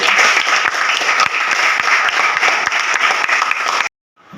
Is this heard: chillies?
no